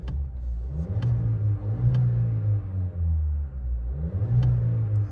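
A 2025 Volkswagen Jetta S with its 1.5-liter turbo engine runs steadily in a close, low rumble, its revs swelling slightly in a couple of spots with no talking over it.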